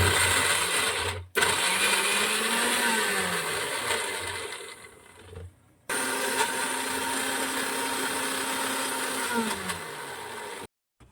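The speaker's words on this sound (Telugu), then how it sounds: "ఇప్పుడు నేను మిక్సీ అయితే వేసేసుకుంటున్నాను" A mixer grinder whirs loudly in bursts, stopping briefly twice and restarting, with a high motor whine and grinding rattle throughout.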